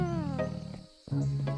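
A cartoon tiger in an animal sanctuary gives a harmonic, voice-like growl and roar, with a brief pause before a second sustained roaring call, loud and close with no other sound.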